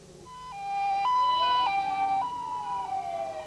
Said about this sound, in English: As ambulances rushed to the scene